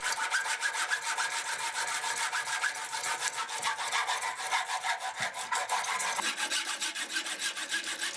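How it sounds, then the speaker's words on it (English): A hacksaw cuts through a piece of walnut wood in fast, even rasping strokes, close and steady throughout with no talking. "I use a hacksaw to roughly cut the shape out."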